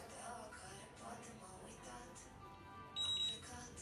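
A lamp gives a single short, high electronic beep near the end, brief and fairly clear beneath faint ongoing talk.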